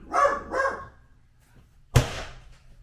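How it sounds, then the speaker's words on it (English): Two quick barks from a dog close by, followed after a short pause by a sharp thump. "We had to pause real quick for doggos barking."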